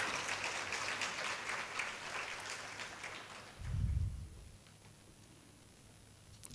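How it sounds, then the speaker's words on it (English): Audience applause at a keynote speech event, a broad wash of clapping that stays steady, then tapers off and fades to near silence, with a brief low thump partway through. "Ladies and gentlemen, a round of applause,"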